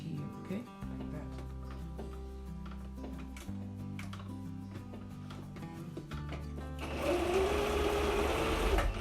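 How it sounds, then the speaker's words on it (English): A sewing machine stitches a paper-bag skirt, whirring steadily with a shifting motor hum through most of the stretch, then briefly running faster and louder near the end. "then I'm going to stitch 5 millimeters up to the end, to the edge here"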